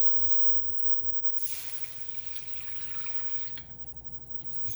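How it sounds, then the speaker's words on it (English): Liquid poured into a flour roux for bechamel in a kitchen, a rushing, splashing pour that starts suddenly and continues steadily, close by with faint talk around it. "And then we're going to add liquid to it."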